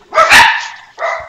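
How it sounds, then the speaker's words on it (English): Two loud, close dog barks sound in quick succession indoors, the first a double bark and the second a shorter single one, with no talk over them. "oh, my dogs are barking"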